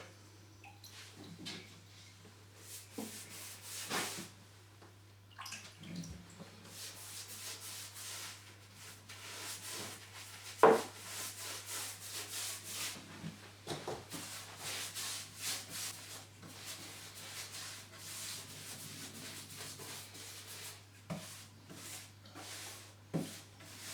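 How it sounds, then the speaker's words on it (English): A brush strokes waterproof sealer around a newly installed shower tray, giving soft, uneven scrubbing and rubbing strokes with brief pauses under a steady low hum, close and fairly quiet. "I'm now going to paint the area using some waterproof sealer."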